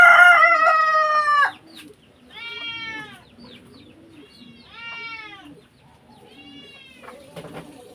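A rooster crows loudly and close, then several shorter clucks and crowing calls from chickens follow against a quiet rural background.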